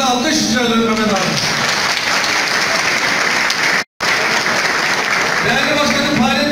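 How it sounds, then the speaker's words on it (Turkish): Loud, steady applause from an audience at a general assembly of the Keşan coffeehouse, restaurant and hotel keepers' chamber, with voices mixed in and a brief dropout midway. "Ya bir alkış rica ederim Mehmet abi."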